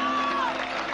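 Dense applause from a concert audience for a percussionist, a steady wash of clapping with a voice and a tone rising briefly above it, loud and continuous throughout.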